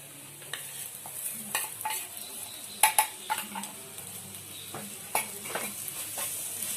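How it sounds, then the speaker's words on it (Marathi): Crushed peas for matar kachori tipped into a hot pan and stirred, giving a continuous sizzle with sharp spoon scrapes and clinks, two louder knocks near the middle. "आता आपण हे बारीक केलेले वाटाणे आहे हे टाकूया."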